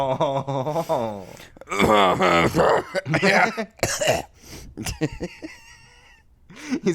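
A man noisily clears his throat several times in a comic, exaggerated way, with croaking, rasping bursts mixed with speech-like sounds, loud and close.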